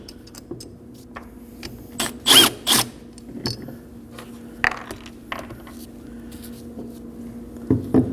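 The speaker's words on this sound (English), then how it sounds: "we're gonna remove these 2 bolts to separate the bracket from the caliper. Use a 14mm socket." A ratchet with a 14mm socket loosens the caliper bracket bolts on the rear brakes of a 2011-2012 Kia Optima, giving a few sharp metallic clicks and short ratcheting bursts spaced out over a quiet background.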